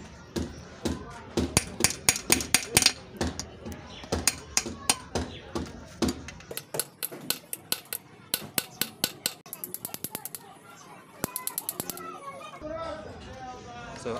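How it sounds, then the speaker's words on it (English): Sharp metallic hammer strikes ring out in quick irregular bursts, loud and close, knocking loose a part on a motor engine, mixed with clanks and tool handling while someone talks. "we are going to use the hammer to remove this particle"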